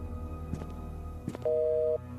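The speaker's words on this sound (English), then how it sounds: "More dial tones." A telephone in the video game The Painscreek Killings gives a steady electronic dial tone for about half a second after a couple of handset clicks and clunks, with faint background hum and no talk.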